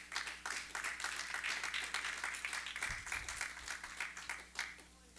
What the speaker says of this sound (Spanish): ¿Cuántos le dan palmas al Señor?